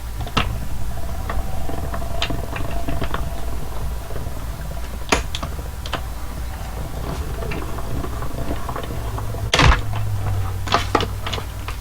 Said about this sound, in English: Put it in the Big Shot or the Stamp and Cut and Emboss machine